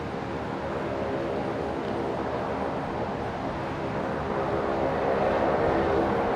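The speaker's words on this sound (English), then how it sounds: "Sounds like one of the noisy Saabs" A Rex Saab turboprop airliner at Brisbane Airport beginning to taxi, its engines making a steady, moderately distant droning roar that builds slightly toward the end, with no talk.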